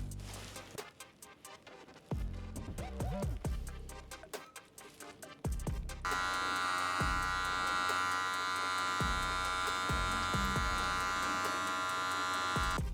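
Electric hair clippers with the lever open and no guard cut hair, buzzing close and steady in bursts at first, then running continuously loud with a bright whine.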